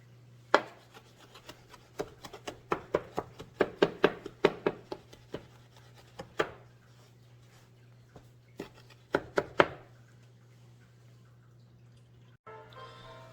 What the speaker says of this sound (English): Chop it up fine and put it in the sauce.